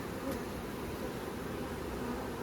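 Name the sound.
honey bees buzzing in an opened winter hive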